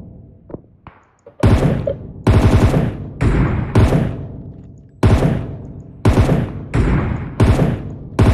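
Rapid gunfire in PUBG, loud close shots in repeated bursts, each ringing off with an echo, preceded by a few faint knocks.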